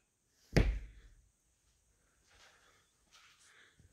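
A door swings shut with a single sharp thud, followed by near silence broken only by faint shuffling sounds in a quiet room.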